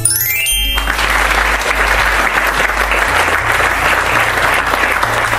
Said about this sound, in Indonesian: Wah, tepuk tangan dulu lur.